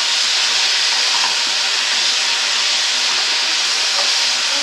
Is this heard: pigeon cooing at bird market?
no